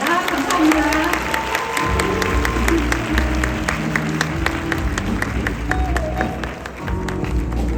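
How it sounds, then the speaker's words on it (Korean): Audience applause at a Nu Skin Korea seminar welcoming a trainer to the stage, steady dense clapping that carries loud and full throughout, with a brief dip and lift near the end. "따뜻한 박수로 맞이해 주시기 바랍니다"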